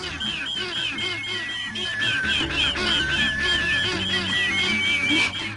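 Several ducks quack repeatedly in a busy, overlapping chorus, close and fairly loud, with honking calls mixed in.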